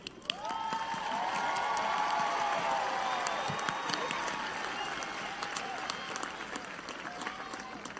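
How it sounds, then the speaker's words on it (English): A large audience at a university commencement ceremony applauds steadily, a dense wash of clapping with scattered cheers and whoops mixed in, and voices murmur beneath it. "Please join me in applauding them."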